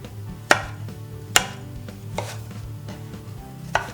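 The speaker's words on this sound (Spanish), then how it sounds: "Picamos la berenjena" A knife chops eggplant on a cutting board, with four sharp, separated strikes landing at uneven intervals over a low steady background hum.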